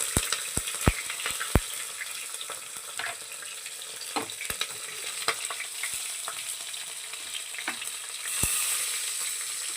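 Cumin, bay leaf, whole spices, green chillies and onion frying in hot oil for jeera rice, a continuous soft sizzle with sharp pops and crackles early on, close and moderately quiet, no voices.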